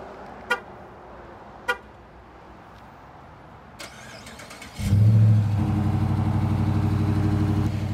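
A 2019 Dodge Charger with the Hemi V8 fires up from cold after a few faint clicks and chirps, then settles into a loud, steady, deep idle rumble, heard close and with no talk.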